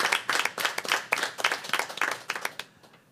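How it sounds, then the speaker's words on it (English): A small audience at a school board meeting gives a short burst of clapping that fades out after about three seconds. "Let's give them a round of applause."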